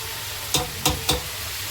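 Ginger garlic paste being stirred in a hot pan for a home-style chicken curry, giving three short, bright scraping sizzles about a third of a second apart over a low steady background hiss.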